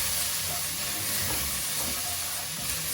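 About four crushed garlic cloves sizzle in a pan for pasta sauce, a soft, continuous even hiss with no distinct pops, heard fairly quietly and without any voices.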